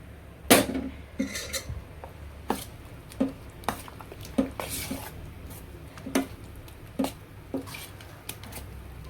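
A spoon scrapes and clinks in a bowl while chicken masala marinade is mixed with oil, giving repeated sharp taps and squishy stirs at a steady rhythm, close by, with faint talk in the background.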